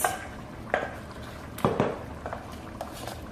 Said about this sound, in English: I'm going to pour the peanut butter into our meat.